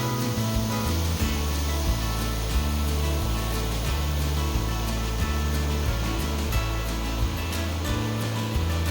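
Steady broadband rush of a waterfall and flowing water at a hidden site near Pune, loud and continuous with a low rumbling undertone throughout, no voices.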